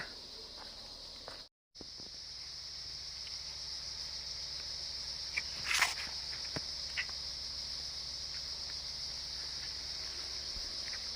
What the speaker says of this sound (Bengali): এক প্রকার ঝিঝি পোকা আর এগুলোর আওয়াজে এখানকার পরিবেশ পুরো মুখরিত